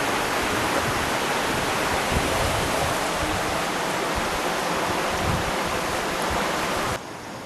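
Steady, dense rushing water from a river in Tapanuli fills the whole stretch, broadband and unbroken like a fast river, with a slight drop in level near the end.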